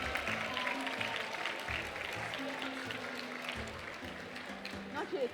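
Conference audience at the International Association of Women Judges gathering applauding as the President of South Africa leaves, with steady, fairly distant clapping from a large crowd and a voice speaking over it.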